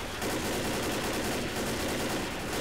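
Rapid automatic assault rifle fire from the zombie shooter Left 4 Dead, a dense, continuous burst of loud, close shots that holds unbroken for the whole stretch.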